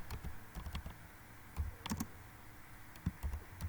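Computer keyboard typing out PHP code, with quick, irregular keystrokes clicking close by in a quiet room, no voices.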